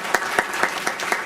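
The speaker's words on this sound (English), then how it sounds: "Yeah, we can clap" Audience at a county State of the County address claps in a steady rhythm, five or six evenly spaced claps standing out over a soft wash of clapping, moderately close, with no voice over it.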